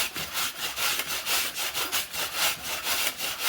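Ash pumpkin rubbed against a hand grater makes loud, close rasping strokes in a quick, even rhythm, roughly four scrapes per second, with no voices.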